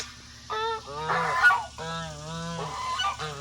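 Geese in a late-summer garden honk in a series of loud, nasal calls close by, several overlapping honks with short gaps between them.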